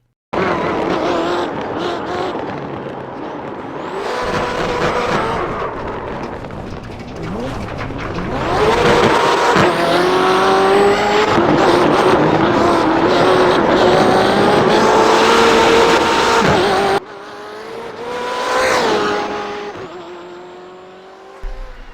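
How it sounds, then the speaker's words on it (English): A BMW M8 GTE race car drifts in the iRacing sim, its engine revving hard and wavering for over twenty seconds with tire squeal and skidding, loud and close, pitch rising and falling as the throttle shifts. "let's answer the question that I don't think anybody's asking. Will it drift?"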